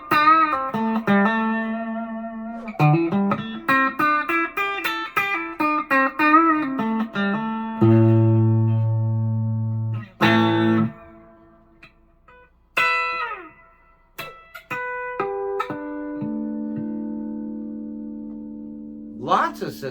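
A Strat-style electric guitar played on its bridge pickup, clean picked notes and chords ringing with long sustain, some held and left to decay, with brief pauses between phrases.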